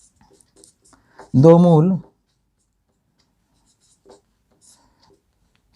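Pen or pencil writing out the answer to a quadratic equation by hand during a class 10 maths lesson, a faint, sparse scratching under a brief spoken phrase, with the surrounding room otherwise quiet.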